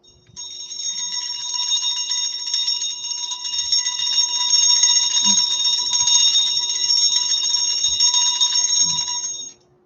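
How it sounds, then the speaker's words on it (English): A bell rings nonstop in a rapid, high metallic trill for nearly ten seconds, loud and close, then cuts off abruptly, with only faint background noise around it. "I'm going to ring the bell."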